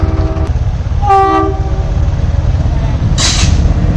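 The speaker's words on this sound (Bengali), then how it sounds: "মালগাড়ি মনে হচ্ছে" A freight train rumbles past a railway level crossing in a steady, loud roar, with a pitched horn blast near the start and a brief high screech toward the end.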